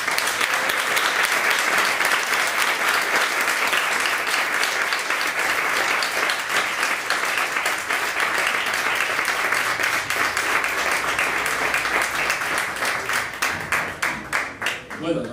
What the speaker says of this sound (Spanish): quiero pedir un aplauso para Alberto, Carlos, los organizadores de este evento tan chulo